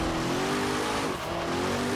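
Zenvo ST1 hypercar drifting in Forza Horizon 3, a steady loud engine drone with a sustained tire squeal running throughout, close and continuous with a brief dip near the middle.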